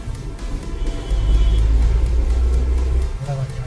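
A Tata Nexon 1.2 turbo petrol with a performance remap accelerates at full throttle in third gear in sport mode, a deep engine drone that swells and holds strong, heard from inside the car.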